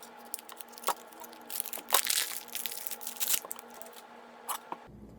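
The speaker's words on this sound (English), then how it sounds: "So I'm going to open it up and cut it" A plastic package of salt pork belly is torn open and cut, giving irregular crinkling, crunching and snipping sounds close by in a quiet kitchen, with clusters of louder rustles in the middle.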